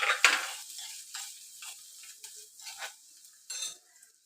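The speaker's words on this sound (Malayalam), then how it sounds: "ഉള്ളി നല്ലവണ്ണം വഴന്നു വന്നതിന് ശേഷം വറുത്ത് വെച്ചിരിക്കുന്ന പാവക്ക ഇട്ട് കൊടുക്കാം." Fried bitter gourd being stirred into sautéed onions in a pan: close, intermittent scraping strokes of a spoon against the pan over a faint sizzle, with a few separate clinks, no voices.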